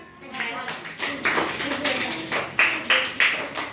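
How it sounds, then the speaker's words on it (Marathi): A group of children at an anganwadi centre clapping together in bursts of rhythmic claps, close and fairly loud, with adult speech over them. "टाळ्या वाजवा सर्वजण"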